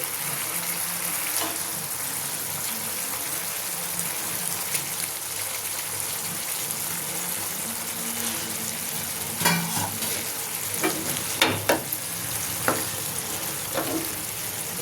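Eggplant pieces fry in a pan with a steady, close sizzle, and a few sharp utensil scrapes and taps come near the end; no voices.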